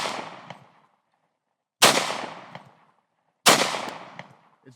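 Three sharp handgun shots from a police trade-in pistol at a shooting range, evenly spaced about two seconds apart, each a loud crack with a fading echo.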